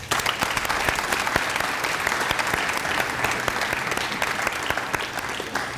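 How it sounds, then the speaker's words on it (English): Sustained audience applause fills an awards ceremony hall, dense steady clapping from many hands throughout with no talk over it. "that's just another big round of applause for our 3 Hats Off winners"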